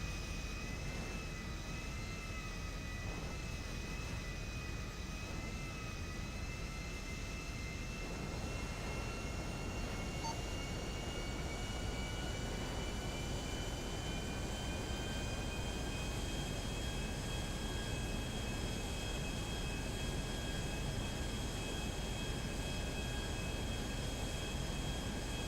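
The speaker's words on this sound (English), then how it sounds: "Fox Air 26 is taking off runway 33 right LSIA for the" Jet airliner in a video game roleplay taking off from runway 33 right at LSIA, a steady loud engine roar with rising whine tones sustained throughout, alone without talk.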